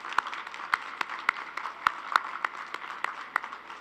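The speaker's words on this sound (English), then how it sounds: "Let's give a round of applause for everyone who helped make this possible." Scattered applause at an in-person university spring commencement ceremony in Toledo: a thin patter of individual hand claps, spaced and uneven, from a small number of people rather than a full crowd.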